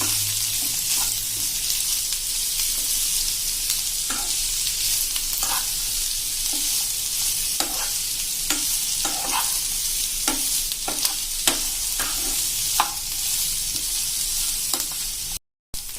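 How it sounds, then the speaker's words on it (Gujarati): Sliced onions sautéing on a medium flame, a steady soft sizzle with repeated scrapes and clicks of stirring throughout, no voices. "આ જે મોટા મીડિયમ કાંદા લીધા છે 2, એને મેં સ્લાઇસ કરી લીધી છે, એને પણ આપણે હલકા બ્રાઉન થાય ત્યાં સુધી આપણે મીડિયમ ફ્લેમ ઉપર"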